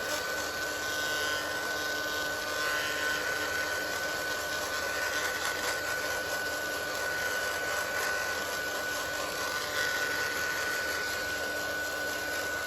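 A hair dryer blowing steadily on a painted book page, a continuous close whooshing hum with a constant whine, unbroken throughout and with no talking.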